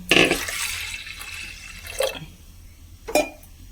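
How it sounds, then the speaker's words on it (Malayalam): A brief splash of hot water poured into a pressure cooker at the start, followed by a couple of short, sharp drips or clinks in an otherwise quiet setting. "ചൂടുവെള്ളം ഒഴിച്ച് കൊടുക്കാം."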